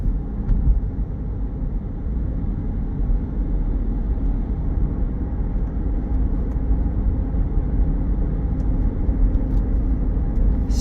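A 2020 Chevrolet Corvette Stingray 2LT with about 17,600 miles on a test drive, giving a steady, continuous low rumble of engine and road noise heard from inside the cabin at an even level throughout.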